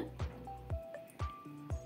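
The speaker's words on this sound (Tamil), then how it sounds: "முதல்ல நல்லா சேர்த்து பிசைஞ்சுக்கணும்" Wheat flour dough mixed with salted water and oil is kneaded by hand, giving four evenly spaced wet squishes about half a second apart, close and moderately loud.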